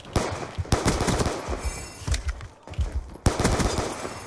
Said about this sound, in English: Alright, I got a pistol. Got a fast trigger finger, so this will be easy.